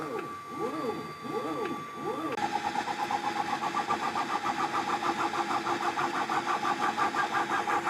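A 3D printer runs at 600 millimetres per second, first giving a few swooping motor whines, then settling into a fast, loud, rapidly pulsing buzz of stepper motors that continues to the end.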